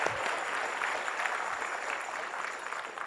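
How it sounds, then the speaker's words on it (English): Audience applause at a pet blogging awards dinner, a steady wash of many hands clapping throughout, fairly distant and even in level. "A big round of applause"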